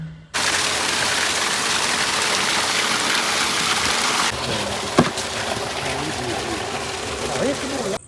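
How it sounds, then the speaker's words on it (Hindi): Light rain falls at home on a farm, a steady soft hiss that continues throughout, with a brief knock partway through and faint clatter near the end. "और बारिश हो रही है हल्की हल्की, बड़ा मज़ेदार मौसम है।"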